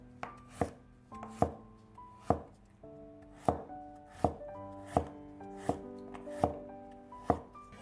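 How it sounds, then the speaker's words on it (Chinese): A knife chops a peeled carrot into diamond-shaped slices on a cutting board. About eleven crisp, close knocks come at an unhurried, fairly even pace, each with a short ringing tail, and nobody speaks. "再准备一根去皮的胡萝卜，先给它切成段儿，再改刀切成菱形片"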